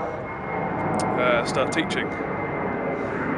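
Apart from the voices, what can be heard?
airplane flying overhead near Narita Airport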